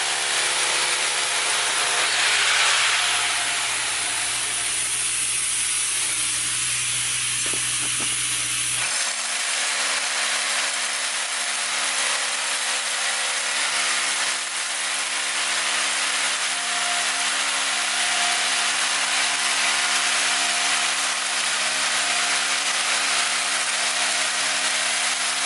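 Power drill boring holes into a concrete porch slab for polyurethane leveling, a loud steady grinding whir that runs continuously, with a deeper rumble early on before settling into a sustained high buzz.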